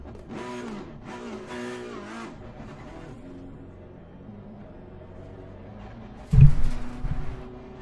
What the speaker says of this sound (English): Finally we got the Ferrari, man!